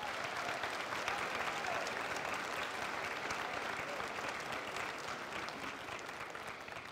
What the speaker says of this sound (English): A round of applause is appropriate.